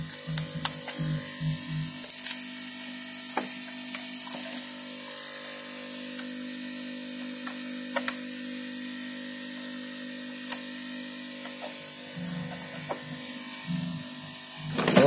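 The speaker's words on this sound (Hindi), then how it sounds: "मेरा ब्लोअर का साउंड भी और थोड़ा सा मैं बढ़ा दिया" A hot air blower runs steadily during repair of a Creative Inspire M2600 speaker system power supply, giving a constant whirring hum with a few faint clicks and handling knocks along the way.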